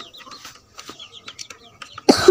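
Hens and chicks cluck and peep softly in a series of short, scattered calls close by, followed by a sudden louder burst of noise at the end.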